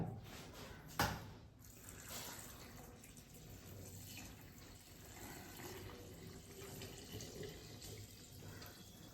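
Water pours steadily into a container for several seconds, a continuous splashing trickle after a brief knock at the start.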